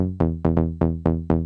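Serum synth bass passed through an EQ low cut and bell curve, sounding as six buzzy, bright staccato notes in a quick even rhythm, each with a sharp attack and short decay, alone.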